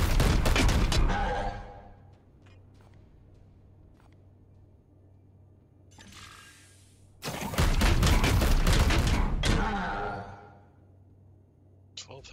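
Several bursts of gunfire in the tactical game Warhammer 40,000: Chaos Gate – Daemonhunters: a loud opening volley, a lull with a few isolated cracks, then a second loud sustained barrage of rapid shots that tails off.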